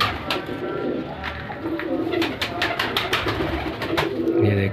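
Several pigeons coo close by as the flock comes down to the ground, soft rolling calls mixed with brief fluttering and scattered clicks.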